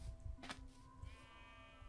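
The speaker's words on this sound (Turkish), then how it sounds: "Bu ne be? Şey, boynuzlu keçi." A horned goat in the Minecraft Hexxit video game lets out a bleat, a brief wavering call over a quiet game background with low rumbling noise.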